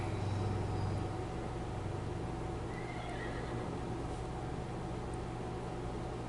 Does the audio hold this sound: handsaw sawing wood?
no